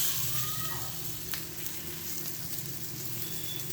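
Moong dal tikki fry in a pan over a low flame with a faint, steady sizzle that stays even and unbroken throughout.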